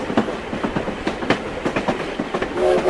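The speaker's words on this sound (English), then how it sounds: "train," A passing train rattles with rhythmic clickety-clack of wheels over rail joints, loud and close, ending in a brief higher squeal.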